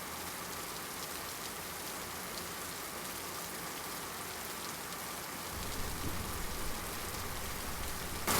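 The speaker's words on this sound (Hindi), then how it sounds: "अरे रे, बारिश तो शुरू भी हो गई।" Steady rain falls outdoors, a dense continuous hiss of drops that holds evenly throughout and grows slightly heavier toward the end, with no voices.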